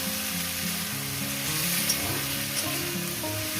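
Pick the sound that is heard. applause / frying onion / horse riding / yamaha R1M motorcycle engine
frying onion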